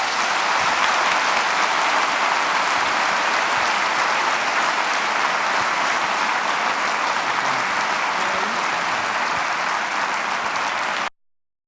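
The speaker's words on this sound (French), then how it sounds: "je vous propose encore de tous les applaudir" An audience at an academic opening ceremony applauds in a dense, steady roar of clapping that holds for about eleven seconds and then cuts off abruptly.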